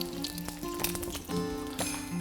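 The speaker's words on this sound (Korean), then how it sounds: "달걀 후라이 제가 진짜 좋아해서 정말 많이 해보는데, 이렇게 약간 기울어서 튀기듯 해주는 게 제일 맛있어요" Thai-style fried egg frying in a tilted pan of oil, a steady close crackling sizzle with bright spattering pops running continuously throughout.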